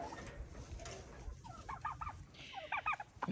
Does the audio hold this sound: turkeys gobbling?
yes